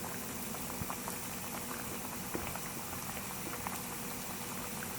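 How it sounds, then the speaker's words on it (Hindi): Chicken broast frying in hot oil over a medium flame, a steady, dense bubbling sizzle with scattered small pops, close and continuous throughout with no talking. "चिकन को फ्राई करना स्टार्ट करते हैं।"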